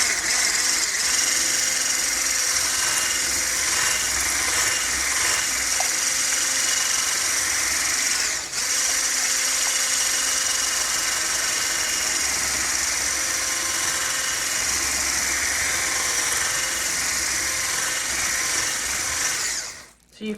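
Electric mixer whipping bubble frosting made with powdered surfactant, a steady loud motor whir running continuously for about twenty seconds with a brief dip midway before cutting off.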